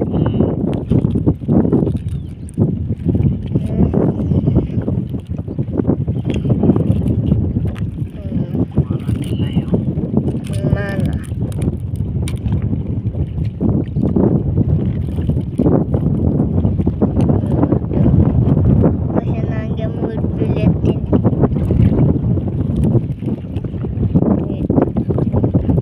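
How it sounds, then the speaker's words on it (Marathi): Wind sweeps across a river and pushes a small fishing boat used for netting tiger prawns. A steady, rough, close roar of wind buffeting fills the whole stretch with little change. "पुन्हा वाऱ्यामुळे आमची नाव बी खाली खाली पळायली."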